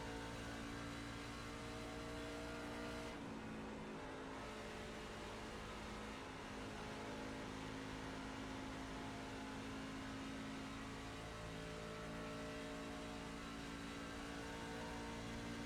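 Race truck engines roar steadily in an iRacing sim race at Texas, a loud continuous drone with a brief dip around three seconds as another truck closes in, no voices.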